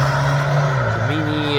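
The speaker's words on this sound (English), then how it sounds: "First car for today is Porsche Turbo, I guess." A Porsche Turbo passes on the Nürburgring track, its engine note a brief, fairly loud tone that drops in pitch as the car goes by.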